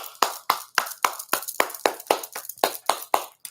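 A pair of hands claps about a dozen times in a steady, even rhythm, sharp and close, with no voices.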